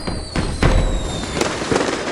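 Fireworks from the video game Paranormasight: a loud burst of crackling pops and bangs, several sharp bursts over a continuous fizzing background.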